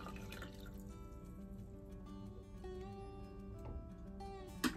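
Hot water poured from a coffee carafe into a container, a faint dripping, trickling liquid sound under quiet background music, ending in a small splash.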